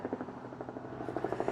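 Helicopter passing overhead near a parked 2019 Mercedes GLC 300 4Matic AMG Line, a steady pulsing rotor drone with a rhythmic beat that grows slightly louder toward the end, heard alone.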